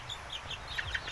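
Native chicken chicks, about 25 days old, cheep and peep in a continuous overlapping chorus of short high calls, fairly close and with no talking.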